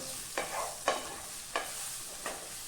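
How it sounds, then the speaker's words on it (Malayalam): A spoon stirs ground spices and garam masala into a pan of coconut chicken curry, giving four distinct scraping strokes, each with a soft sizzle, close and steady, with no talk. "അതെല്ലാം ഇട്ടതിന് ശേഷം ഒന്ന് ഇളക്കാം"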